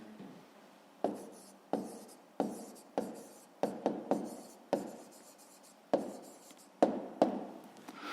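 Answer written by hand for a fifth-grade maths exercise, soft pen strokes on paper with a dozen small taps and scratches at an uneven pace, close and quiet.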